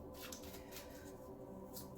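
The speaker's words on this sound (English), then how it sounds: "I've already shuffled these cards, but I'm just going to shuffle them again." A deck of tarot cards is shuffled nearby, giving soft riffling, papery flutters in several quick bursts over a faint background, quiet and without speech.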